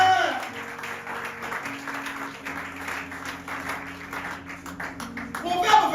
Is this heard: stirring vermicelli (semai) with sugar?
no